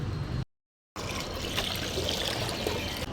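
Water is poured onto potted plants in a rooftop garden, a faint continuous trickle and splash heard close, interrupted by a short gap before pouring resumes.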